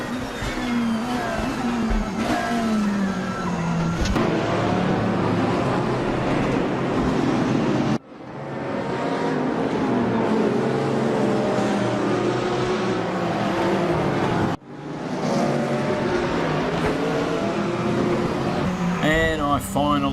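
Race car engines roar and rev in the racing game RaceRoom during a drag race down the home stretch, a loud sustained whine that cuts out briefly twice before climbing again.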